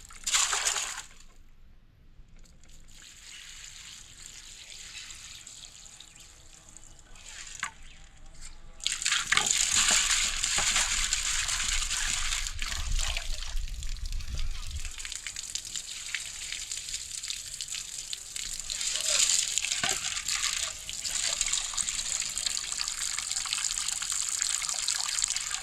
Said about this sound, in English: Get the peas washed off right and proper way, you know.